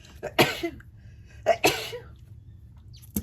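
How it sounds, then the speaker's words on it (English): Two sharp sneezes about a second apart, close and loud, followed by a quieter short burst near the end, with no talking. "Oh, excuse me, I had a sneeze there."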